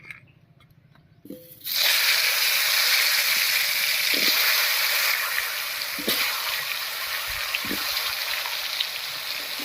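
Potatoes dropped into hot oil while cooking a mutton curry, a sudden loud hiss bursting in after a quiet moment, then a steady bright sizzle with a few soft knocks, no voices.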